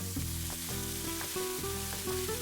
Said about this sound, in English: We're going to deglaze the pan with some white wine.